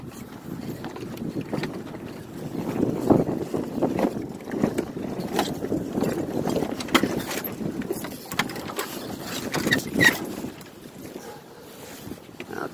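Sailboat with a cutter rig under sail, a steady rush of wind and water with soft buffeting gusts swelling and fading throughout, no one talking.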